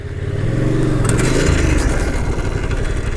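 A Suzuki GSX-R 750 motorcycle engine revs hard and loud, then a clattering scrape breaks through as the bike fails during a wheelie attempt, with the engine noise continuing rough and ragged afterward.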